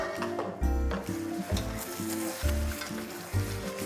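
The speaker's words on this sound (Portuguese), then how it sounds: "Agora eu vou transferir essa deglaçagem aqui que eu fiz nessa panela." Cognac deglazing liquid hits a hot pan in repeated bursts, each pour bringing a loud close sizzle that surges and fades in a rough rhythm of four or five waves, with no voices.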